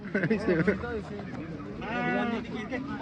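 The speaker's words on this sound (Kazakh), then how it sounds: "Ұрғашы қозы бар екен" Lamb bleating at a livestock exhibition, a couple of wavering bleats close by, with people talking in the background.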